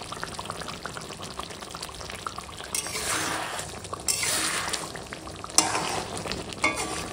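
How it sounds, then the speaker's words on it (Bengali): Mustard pabda fish curry with mustard oil, gently mixed in a pan: a soft continuous sizzle with swelling bursts of stirring and scraping, close and moderately loud. "ওপর থেকে ছড়িয়ে দেবো একটুখানি অল্প করে সরিষার তেল দিয়ে দিলাম, দিয়ে আর হালকা হাতে মিশিয়ে নেবো"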